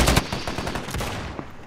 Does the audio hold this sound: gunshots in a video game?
yes